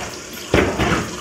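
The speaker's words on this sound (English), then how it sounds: "So I'm going to take them out of it and rinse them in cold water." Water runs from a tap as brined salmon and trout are rinsed in cold water before smoking, a sudden close splashing gush that starts halfway through after a quiet stretch.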